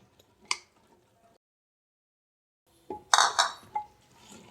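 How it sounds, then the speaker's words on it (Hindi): A spoon scrapes and clinks against a pan as maize flour is stirred into cooked mustard greens, a few sharp metallic taps, then a gap of silence and a cluster of louder clatters close by. "अब इसमें मकई का आटा डालेंगे और इसे मिक्स करते जाएंगे।"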